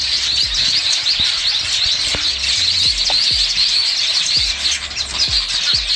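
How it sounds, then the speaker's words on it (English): Weaver birds sing in a dense, continuous chorus of bright chattering chirps and squeals, outdoors on a village tour in Uganda, with scattered low knocks and thumps beneath. "Oh, I love the songs the birds are singing."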